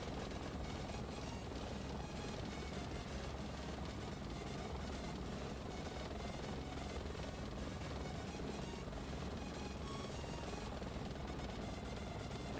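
A Bell 412 helicopter flies in the X-Plane 11 flight simulator, its rotor and turbine making a steady, dense drone that holds without a break throughout, fairly quiet and with no talk over it.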